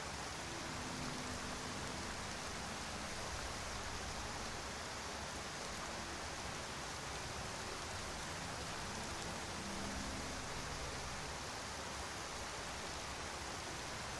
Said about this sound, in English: It's rain, man.